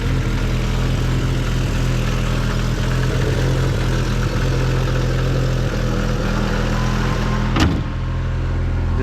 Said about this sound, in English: Hear that fan kicking on again.